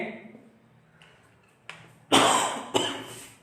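Two loud, harsh coughs ring out close by in quick succession, after a quieter stretch with a few faint clicks.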